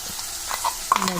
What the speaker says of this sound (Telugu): ఇందాక మనం మిక్సీ పట్టి పెట్టిన గ్రేవీని వేసుకోవాలి.